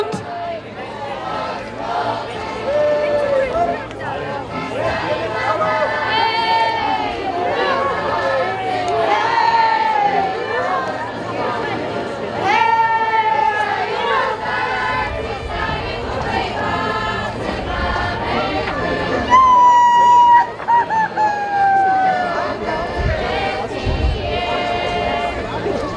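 Outdoor crowd at a spring market cheering and shouting encouragement while firefighters raise a maypole, with loud voices, whoops and a sung or chanted line rising over continuous crowd noise for the whole stretch.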